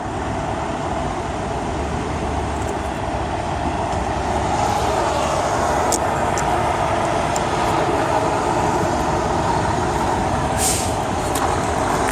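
A semi truck pulling a Fontaine Magnitude flat deck trailer on C4 axles maneuvers into a parking spot, giving a loud, continuous engine drone with faint airy hiss on top.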